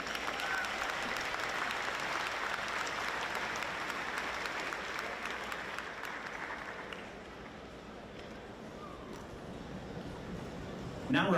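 A large crowd applauds steadily for several seconds at a graduation ceremony, the clapping gradually thinning and fading toward the end.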